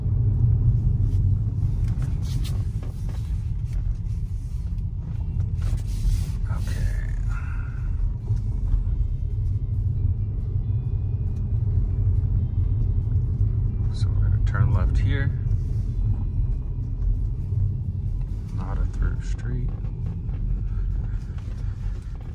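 A Tesla Model S P100D drives along a road with a steady low rumble of tyres and motion, plus a few faint knocks and clicks inside the cabin, held at an even level throughout.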